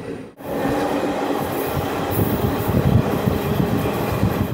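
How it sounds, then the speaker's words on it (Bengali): A passenger train pulling out of a station rumbles along steadily with rhythmic wheel clatter and a faint high squeal, heard up close from inside a general coach. "আবার স্টার্টার হয়ে গেছে, তো ট্রেন ছেড়ে দিল।"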